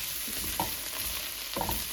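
Okra being gently turned in a frying pan over medium heat, a steady low sizzle with soft scraping stirs at two moments, close and fairly quiet.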